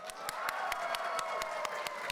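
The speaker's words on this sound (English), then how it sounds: "let's hear a round of applause for Bob" Crowd applause and cheering for a villager at a convention panel, with regularly spaced sharp claps standing out over a steady wash of clapping and crowd noise throughout.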